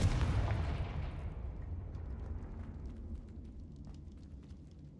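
A Confringo blast spell in Hogwarts Legacy lands as a heavy explosive boom at the start, then fades into a long rumbling decay with faint crackles, and no voices.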